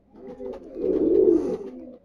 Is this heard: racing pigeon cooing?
yes